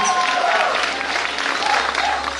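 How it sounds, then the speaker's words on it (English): Crowd applause for an arm-wrestling athlete at an award ceremony in Shillong, a broad continuous clapping that stays loud throughout, with faint tonal sounds over it. "Please give a round of applause."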